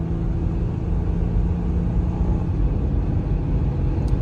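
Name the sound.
car accelerating on the road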